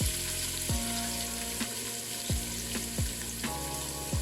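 Three medium chopped onions fry in three to four tablespoons of hot oil in a pan, a close, steady sizzle broken by several sharp stirring scrapes and clinks of a utensil at irregular intervals.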